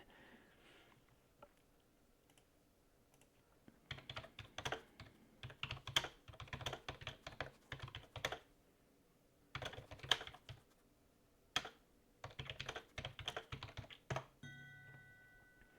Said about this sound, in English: Me and my crappy typing.